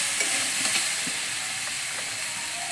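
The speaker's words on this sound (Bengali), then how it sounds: "প্রায় চালতাটা ভাজা হয়ে গেছে।" Elephant apple (chalta) pieces frying in a pan for pickle, a steady hissing sizzle with faint occasional stirring taps, no voices.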